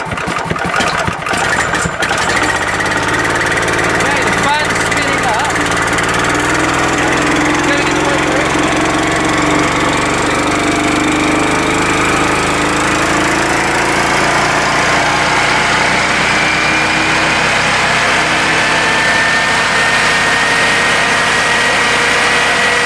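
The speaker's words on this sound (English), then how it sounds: "fire up the generator and just see what happens" A petrol generator starts with a burst of rattling cranking, then settles into a steady, loud, continuous engine drone, nearby and running alone.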